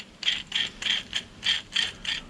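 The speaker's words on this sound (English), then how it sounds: "So I'm going to clamp this" Clamp on a NAKOOS magnifying lamp being tightened, seven quick close ratcheting clicks in a steady rhythm with no talk.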